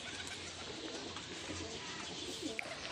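Pigeons coo softly in low, throaty murmurs beneath a constant wash of outdoor noise.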